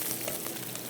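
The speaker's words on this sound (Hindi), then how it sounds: "फ्राई कर रहे हैं इसको" A breaded chicken fillet fries in a pan, giving a soft, constant sizzle that stays faint and unbroken through a very short moment.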